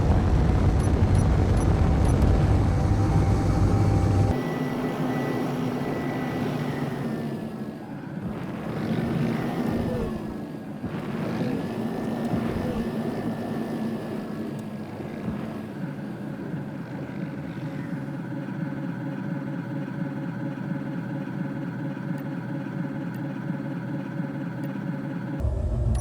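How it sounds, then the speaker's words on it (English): Atmospheric thrusters on a drop ship in the Space Engineers game roar steadily like a loud engine rumble, swelling and easing as the craft maneuvers, with no voices. "disable ions and hydros and enable atmosphere thrusters at this point"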